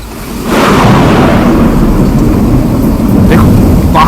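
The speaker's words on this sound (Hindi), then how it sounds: "देखो बाहर देखो, कैसी आंधी और तूफान चल रहे हैं।" A violent storm with thunder and strong wind roars loudly and continuously, a deep rumbling wash with gusty hiss that swells early and never lets up.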